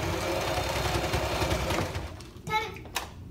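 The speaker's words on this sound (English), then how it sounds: "he's gonna sew across these ends," A sewing machine runs steadily, stitching back and forth across the strap ends of a fabric sleep mask, then stops, leaving a few brief clicks and soft handling sounds.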